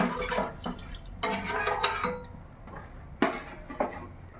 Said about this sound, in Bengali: দিয়ে আমি রসটাকে একটু নাড়াচাড়া দিয়ে রসটা ফুটতে দিচ্ছি।